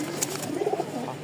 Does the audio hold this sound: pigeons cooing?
yes